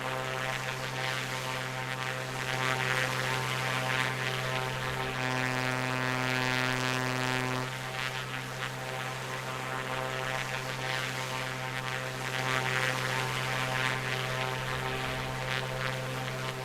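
A propeller engine on an A2A Comanche in Microsoft Flight Simulator drones loud and steady in the cockpit, a constant humming tone that shifts slightly in pitch partway through and carries on with no speech.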